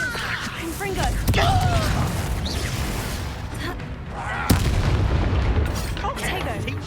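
Repeated Confringo blasting-spell explosions in the Hogwarts Legacy video game, sharp booms and impacts landing at intervals amid dense, loud combat noise, with voices and spell effects layered over the top.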